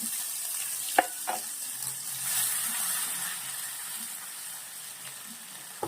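Ginger, chili and garlic paste sautés in a pan for a dhaba-style masala bhindi, a moderate steady sizzle with a couple of sharp clinks of a utensil near the start, no voices.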